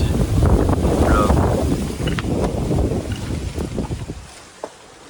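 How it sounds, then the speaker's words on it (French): Strong wind outside an abandoned factory buffeting the microphone in heavy rumbling gusts, loud at first and easing toward the end, with a faint thump near the close. "je sais pas si on va bien entendre parce qu'il y a beaucoup de vent"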